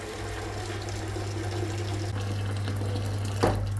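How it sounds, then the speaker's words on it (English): Hot water from a drained urn pours into a big teapot in a kitchen, a steady rushing flow under a constant low electrical hum, with no talk. "Fill the big teapot."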